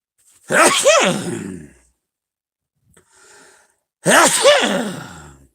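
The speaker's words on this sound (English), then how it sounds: "I got to sneeze with my mouth open" Two forceful open-mouthed sneezes from one person, each a sharp burst trailing into a breathy release, separated by a quiet pause holding a soft inhale.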